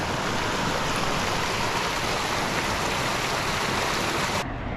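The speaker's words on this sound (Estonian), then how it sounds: "Et siit voolab siis sinna see soe vesi" Warm thermal spring water flows steadily at a roadside hot spring in Italy, a loud, continuous rushing hiss that cuts off abruptly just before the end.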